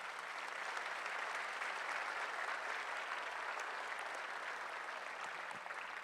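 Sustained audience applause fills the room at an official public meeting, the Jornada de Acuerdos para la Prosperidad, in April 2013: a steady, even wash of clapping from many hands that holds at the same level throughout with no voices over it.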